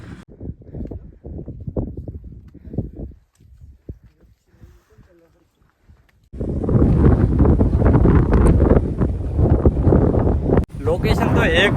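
Strong wind blasting over the microphone atop Markandeya mountain at 4383 feet on the Markandya Fort trek, a loud, rumbling, buffeting roar taking over after a stretch of someone talking, near and continuous to the end.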